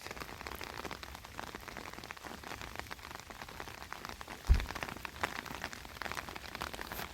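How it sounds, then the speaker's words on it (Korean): Heavy rain pours outdoors on a hillside during spring greens foraging, a dense, steady hiss of drops hitting surfaces close by, broken once by a single dull thump. "이제 비가 너무 많이 와서 내려가야 될 것 같습니다"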